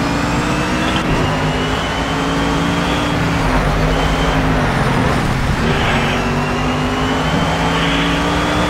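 A race car engine in the Project CARS racing game drones steadily at high revs, loud and continuous with gentle pitch shifts as it holds speed, with no voices.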